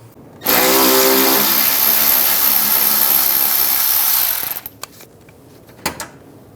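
A power tool with a 10mm socket spins out screws on a Ram 1500, one loud whirring burst of about four seconds up close, then quiet clicks and handling.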